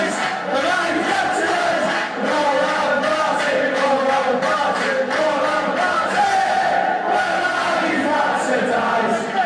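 A packed stadium section of Liverpool football supporters chants loudly and continuously, a dense roar of massed voices with no pauses.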